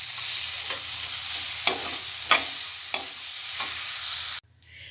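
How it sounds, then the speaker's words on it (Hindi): Paneer mixture stirred in a kadhai: a steady broadband sizzle with several distinct spoon scrapes against the pan, loud and close, then it cuts off abruptly near the end. "इसको हिला लेंगे अच्छे से।"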